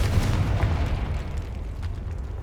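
A Confringo spell blast in Hogwarts Legacy bursts out as a loud, close, rumbling explosion that roars across the whole moment and slowly thins out, with no voices over it.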